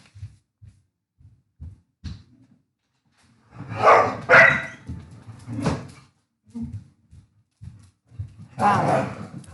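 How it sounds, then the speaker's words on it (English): A dog barks in several loud bursts, with quieter low thumps and knocks scattered between them. "Sorry that my dog keeps barking in the background."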